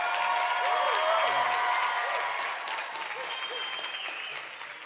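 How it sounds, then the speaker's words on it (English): A convention hall audience claps steadily through a session, a broad wash of applause beneath a speaker's amplified voice, holding throughout before easing slightly. "you clapping in between really makes me happy"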